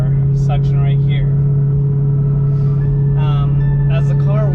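A BMW M3 with a DCT gearbox idles steadily while warming up, a loud constant low engine drone running under a person talking throughout.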